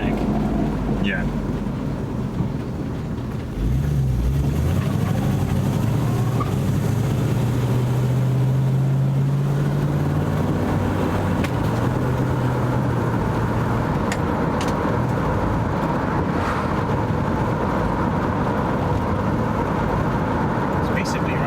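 A rebuilt car engine running on a test drive, a steady loud drone with a rising revving swell early on, and people talking over the continuous motor noise throughout.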